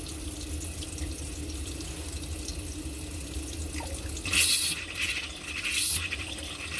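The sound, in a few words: water coming out of RV tap during winterizing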